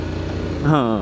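The Honda X-ADV 750 scooter's engine idles with a low, even hum, close by, before a voice begins speaking over it near the end.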